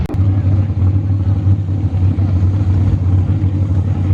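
A drag-race car idling hard at the launch line with the brake held, a loud, steady low engine rumble throbbing close by without letup.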